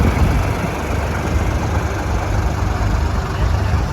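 A 1955 KFG 68 diesel engine, fully restored and shown at a steam engine rally, runs at a steady, loud idle with a continuous low rumble and no talk over it.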